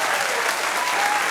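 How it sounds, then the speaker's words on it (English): A brief burst of crowd applause, dense steady clapping from a small audience, heard close and loud. "Can I get some applause?"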